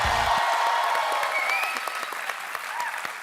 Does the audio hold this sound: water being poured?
no